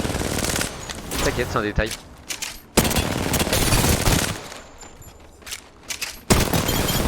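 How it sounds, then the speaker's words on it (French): Rapid gunfire from an Apex Legends duo match rattles in dense bursts, with sharp breaks and renewed volleys, mixed under excited French speech from players. "Je suis sous les tirs. je te tire dessus là."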